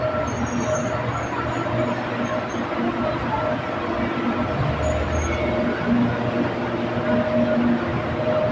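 A BTS Silom Line metro train rumbles and hums at platform 3 of Saphan Taksin station in Bangkok, with a steady low drone and brief squeals of wheels, under a faint public announcement.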